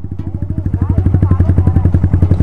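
A TVS Apache motorcycle engine idles up close and loud, a steady rapid thumping putter with a pulsing low rumble. It stuck on a rough trail ride to Panikot Lake, and voices talk faintly beneath it.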